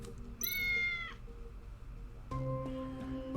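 A cat meows once in the video game Tales of the Neon Sea, a clear, close, drawn-out call lasting under a second, followed by a steady backdrop of in-game ambient tones and music.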